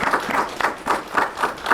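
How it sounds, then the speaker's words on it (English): Attendees at a panel event give the panel members a round of applause, with a few close, loose claps at an uneven rhythm rather than a full dense ovation. "join me in a round of applause for our panel members"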